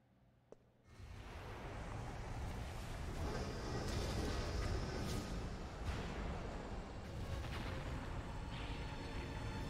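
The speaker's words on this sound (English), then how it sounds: "I love the stock explosion noises." Stock explosion effect from the video game Final Fantasy IX: a sharp onset followed by a sustained, roaring rumble that stays loud and dense for several seconds, with no talk over it.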